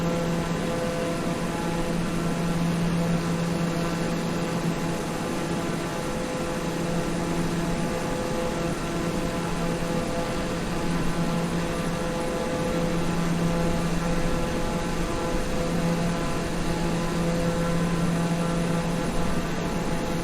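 Steady droning engine and propeller hum of a small aircraft in flight, heard from inside the cabin on a Lubbock to Phoenix trip, loud, continuous and unchanging for twenty seconds.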